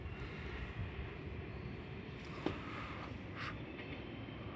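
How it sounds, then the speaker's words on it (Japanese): Faint, distant rumble of a Yamaguchi Line train drawing into Shin-Yamaguchi Station, Japan, a low steady drone with a soft click or two, heard alone. "山口線から列車来ましたね。"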